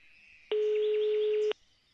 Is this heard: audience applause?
no